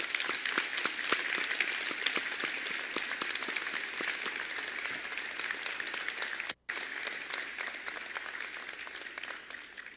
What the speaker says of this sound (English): please join me in giving these Har-Ber students and brand new soldiers a thunderous